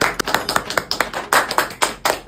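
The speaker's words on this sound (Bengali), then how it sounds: "জোরে একটা হাততালি" A short burst of hand claps, about a dozen fairly loud, uneven claps from a small group, close by, during a comedy game show.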